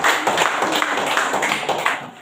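Classroom applause for a student group: a dense, steady patter of many hands clapping at close range, continuous and fairly loud, with no voices over it.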